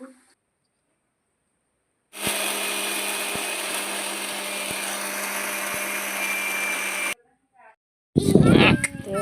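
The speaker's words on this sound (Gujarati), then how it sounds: "અહીંયા મિક્સરમાં પીસવાનું હાલે" An electric kitchen mixer grinder whirs in a loud, steady hum for about five seconds while grinding ingredients for laddu, set between stretches of near silence, with a brief burst of other noise at the end.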